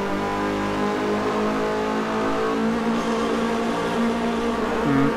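Race cars in Forza Motorsport 4, Mazda cars in a racing game, drone with steady layered engine tones throughout, close and continuous, pitch shifting slightly as they run bumper to bumper down the pit lane straight.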